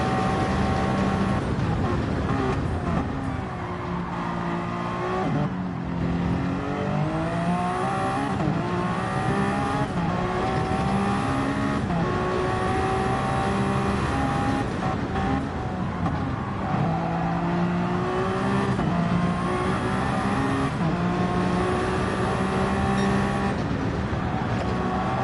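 A race car lapping the Spa circuit in a racing video game, its engine droning steadily and loudly throughout with rising and falling revs through gear changes, and no talk over it.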